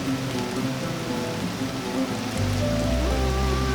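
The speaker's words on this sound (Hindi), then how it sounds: "इतनी तेज बारिश है" Heavy rain pours steadily on a hard surface as a dense, continuous hiss of drops. Partway through, the downpour grows louder and fuller and holds there to the end. No voices are heard.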